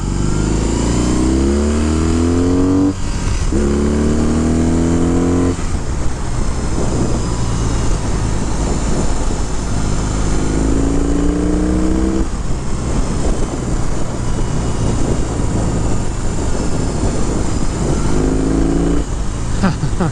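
A 2022 BMW R18 1800cc cruiser motorcycle in rock (sport) mode accelerates through rising revs in repeated pulls, shifting gears between them, loud and close with steady wind noise throughout.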